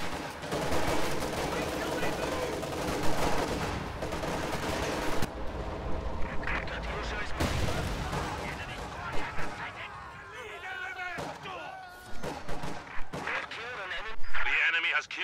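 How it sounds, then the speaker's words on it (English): Incendiary artillery barrage from Soviet forces in Company of Heroes 2, heavy booms and crackling blasts rolling under game radio voices and music, loud at first and then thinning into scattered detonations. "Drop the incendiary in. Incendiary artillery barrage to target."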